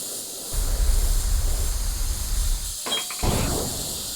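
Airbrush hissing steadily as it sprays cerulean blue paint in continuous bursts, with a short pause and a few faint clinks before the spray resumes; close and even.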